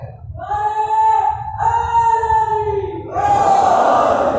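A majlis crowd in Landhi, Karachi, chants slogans in loud unison, in two sustained bursts separated by a short break, the second swelling bigger and denser.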